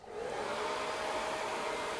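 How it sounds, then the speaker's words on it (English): Hair dryer blowing heat while styling hair with a natural wave, a loud steady whooshing drone that starts quickly and holds constant, with no talk. "get the heat of the dryer closer to the roots"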